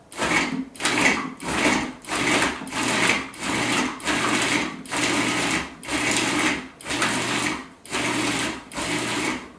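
A loud blender grinds hard frozen fruit in repeated pulsing bursts, about one per second, with the frozen chunks rattling against the blades throughout.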